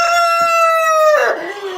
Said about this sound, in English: And he always crows when he's done.